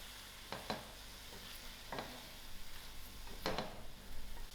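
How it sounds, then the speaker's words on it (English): A mushroom and mixed-vegetable filling mixed in a pan, with several separate scraping strokes of a spoon over a faint sizzle, fairly quiet and without talk. "I'll give this a nice mix."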